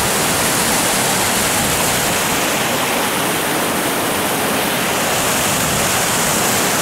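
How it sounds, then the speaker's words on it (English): A waterfall in the south of France in early spring, close and loud, gives a dense, steady broadband roar that stays unbroken with no other sounds. "So here's a waterfall."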